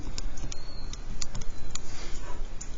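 Calculator keys are pressed in a quick, uneven run of light clicks as values are entered, close and crisp over a low background hum.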